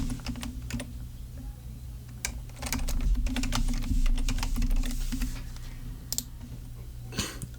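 Someone types an email address and password on a computer keyboard: bursts of close, crisp key clicks in uneven runs with short pauses, over a low steady background hum.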